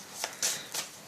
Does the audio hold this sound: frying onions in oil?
no